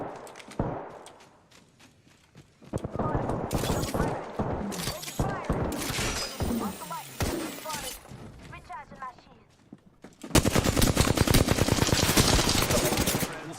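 Rapid bursts of automatic gunfire in a video game with gas on the battlefield, loud and near, alternating with French-speaking players talking over the shots, then a dense sustained barrage at the end.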